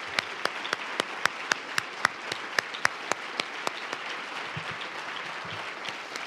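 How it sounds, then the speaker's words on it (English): Scholars at a health conference opening receive applause from the audience: a steady run of sharp individual claps, some standing out near the front, over a wash of softer clapping from the room that carries on for several seconds. "let's give them a big round of applause"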